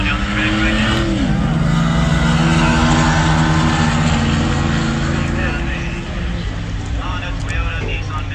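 Street cars drag racing down the track at a midnight street drag event in Hebron, Ohio, a loud sustained engine roar with a shifting pitch drop, heard over an announcer talking on a PA.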